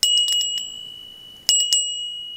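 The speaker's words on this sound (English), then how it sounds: "We have a bell here which has" A small metal bell with a free-floating clapper rings in bright, clear strikes: a quick cluster of several dings at the start, then two more a beat apart, each leaving a sustained high ring that slowly decays.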